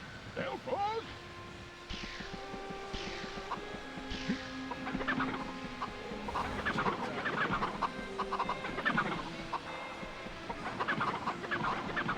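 Chickens in the video game Medievil cluck and squawk repeatedly at close range, several birds overlapping in busy bursts over game music and ambient effects.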